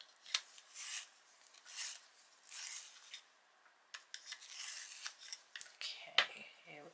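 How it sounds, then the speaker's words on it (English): A juniper green coloured pencil is turned in a sharpener, giving quiet, close rasping strokes that come in short bursts with pauses between them. "Give it a sharpen."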